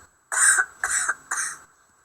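Three coughs from a soundboard sound effect, each burst loud and close with short gaps between them, and no talking over them.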